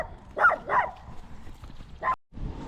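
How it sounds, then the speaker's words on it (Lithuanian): Bulldog puppies give a few short, high yips and barks close by, three quick outbursts spaced over a couple of seconds with a brief silent gap near the end. "Šuniukai tokie gražūs."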